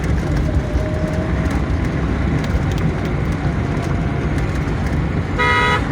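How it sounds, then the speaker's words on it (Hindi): Busy street traffic during a rainy shopping trip before Eid, a continuous dense roar of passing vehicles with scattered horn toots and a clear loud horn blast at the very end. "इस टाइम क्योंकि ट्रैफिक बहुत ज़्यादा हो रही है।"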